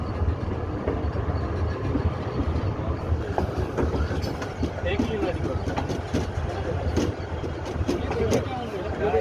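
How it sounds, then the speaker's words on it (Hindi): The Hazara Express rolls in along a sharply curving railway track, a steady rumble of wagons with rhythmic clickety-clack and faint wheel squeal, heard fairly close, with people talking nearby. "वो देखते ट्रेन आ रही है ना।"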